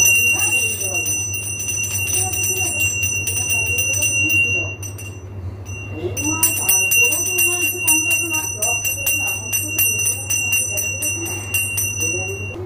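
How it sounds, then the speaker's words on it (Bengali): A small handheld bell rings repeatedly in quick jangling bursts, bright and near, pausing briefly midway before resuming, while people talk and call out throughout in a home setting. "ঘন্টি বাজাও, বাজাও।"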